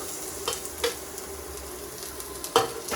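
Cumin, urad dal and crushed garlic fry in hot oil for a Kerala okra masala, a quiet steady sizzle punctuated by a few sharp spoon stirs.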